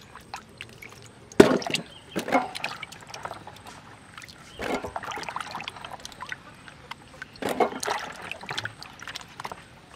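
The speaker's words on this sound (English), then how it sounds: "So you add water to it." Water poured over peeled, cut cocoyam pieces for cooking, a few short splashing pours with quieter trickling between them, close by and heard alone.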